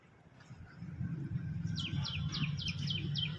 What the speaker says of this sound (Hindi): अभी देखिए बड़ी संख्या में यहाँ पर गौरैया पक्षी आपको दिख रही हैं